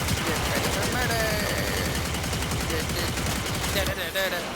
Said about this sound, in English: I'm literally shooting at a hallway